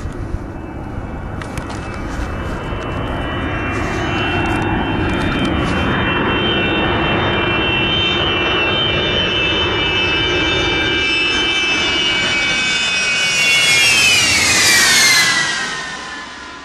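A jet airplane passes close and loud, its engine producing a steady broadband roar that builds and holds for many seconds. A rising whine surges near the end before the noise fades away, with no talking.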